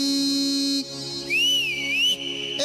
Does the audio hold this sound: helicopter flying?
no